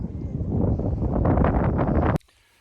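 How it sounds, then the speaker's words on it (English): Strong, steady wind roars loudly across an open microphone on a cold, cloudy day in Alaska, with gusty rustling that keeps going for about two seconds and then cuts off abruptly into near silence. "it's one windy, cold day."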